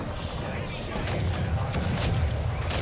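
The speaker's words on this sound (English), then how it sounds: "Ready the cannons, man." Ship cannons firing in a pirate video game, heavy booming blasts over a dense rumbling battle din, several quick reports in the last two seconds, loud and close.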